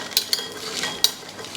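Roasted garlic and peanuts tipped out of a jumbo Signora air fryer, giving soft scraping and sizzly rattling with a few sharp clinks of the basket, close and fairly quiet, no talking.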